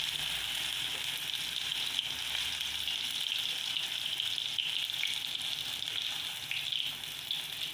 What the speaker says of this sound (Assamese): আৰু এইদৰে 10 মিনিটমান ভাজিব লাগিব, নিউটেলাখিনি ভালকৈ ভাজিব লাগিব।